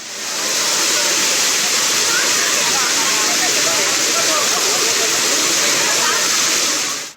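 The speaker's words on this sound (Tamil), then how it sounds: "தேனி மாவட்டம் கும்பக்கரை அருவியில் குளிக்க ஏராளமான சுற்றுலா பயணிகள் குவிந்தனர்." Kumbakkarai waterfall in Theni district, swollen by intermittent rain, roars as a loud, steady, close rush of falling water where many tourists bathe, continuous throughout with no pause.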